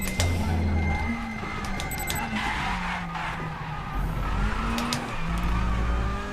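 A touring car in the RaceRoom sim racing game, badly damaged late in a race, with a steady loud engine drone throughout and repeated tire squeals and skids layered over it.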